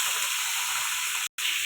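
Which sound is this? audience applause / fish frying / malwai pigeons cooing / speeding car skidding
fish frying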